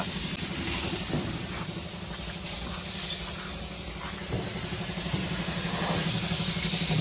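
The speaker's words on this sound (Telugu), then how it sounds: "ఆరెంజ్ కలర్ అయితే స్ప్రే చేస్తున్నాడు" An air spray gun lays orange paint onto a vehicle body in a truck body-building workshop, giving a loud, continuous hiss that holds steady throughout over a faint low rumble, with no voices.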